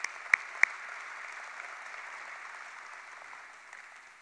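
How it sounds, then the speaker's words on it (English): Applause from an audience at an indoor tennis center dedication ceremony, a steady moderately faint wash of clapping with two sharp louder claps near the start, tapering slightly toward the end. "So I would like to give one more round of applause for them,"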